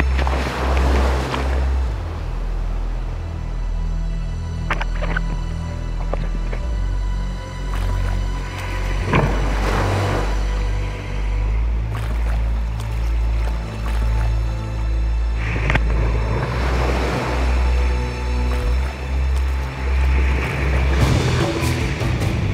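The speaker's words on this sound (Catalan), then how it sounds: "m'han vingut dos o tres onades gegants i les he pogut remuntar de miracle" Large ocean waves surge and break around a sea kayak on a tropical reef off Papua, a loud continuous roar of surf and rushing water with heavy low rumble, swelling in several surges; no talking.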